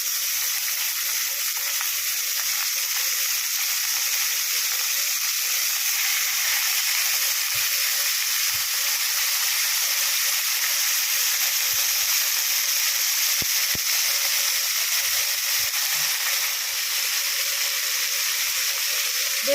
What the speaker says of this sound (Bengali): সমস্ত কিমাটাকে আমি গরম তেলের মধ্যে দিয়ে দিলাম।